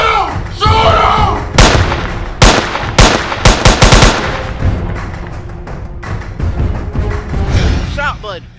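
Gunshots in a comedy skit, a rapid string of loud, sharp shots and bursts over a dense, noisy backdrop of voices and other sound, close and harsh.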